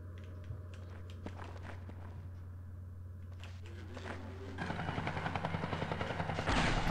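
Helicopter in the shooter game Gunman Chronicles, a steady low rotor drone running throughout, joined by footsteps and rising bursts of gunfire and clatter toward the end.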